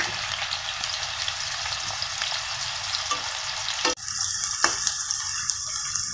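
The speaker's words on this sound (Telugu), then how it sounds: "ఆయిల్ వేడైన తర్వాత ఆనియన్స్ వేసుకోవాలి" Chopped onions sizzle in about four tablespoons of hot oil in a pan for gongura chicken, a loud, continuous close-up crackle with a brief clatter of stirring partway through.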